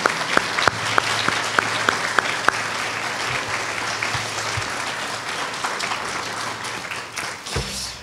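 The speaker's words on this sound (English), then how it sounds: "maybe a round of applause for them" Applause from an audience at an evening architecture and art talk, steady dense clapping filling the room for several seconds before fading out, no voices over it.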